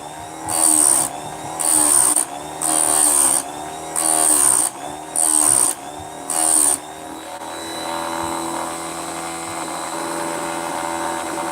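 An angle grinder working on badly rusted chains in six short, even bursts of loud, shrill cutting noise, each separated by a brief pause, followed by a steady lower whine as the tool keeps spinning.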